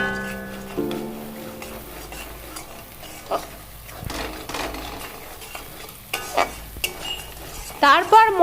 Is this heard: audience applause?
no